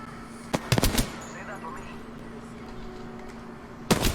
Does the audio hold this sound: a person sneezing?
no